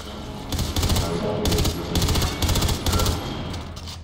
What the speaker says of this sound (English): Whoa, this gun is an automatic?